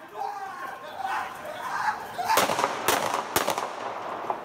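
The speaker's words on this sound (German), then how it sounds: "es fallen Schüsse." A few sharp gunshot cracks from police ring out in quick succession after a stretch of muffled voices and crowd noise.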